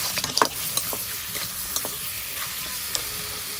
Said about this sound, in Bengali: সুন্দর করে ভাজবো মাংস